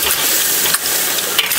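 Rice stir-fried in a wok sizzles and scrapes steadily, loud and close, with brief spatula clatters and no talking.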